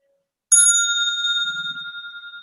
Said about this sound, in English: This is the 6-minute warning bell.